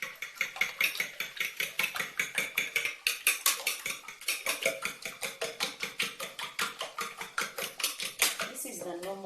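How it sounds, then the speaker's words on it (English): Eggs are whisked briskly in a bowl, producing a fast, steady run of close, bright clinks and taps throughout. "go back to whisking of my eggs"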